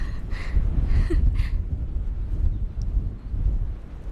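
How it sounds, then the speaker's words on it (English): Gusty wind on a UK shelling beach buffets the microphone with continuous low rumbling roar that stays loud and steady throughout. "the wind's picked up"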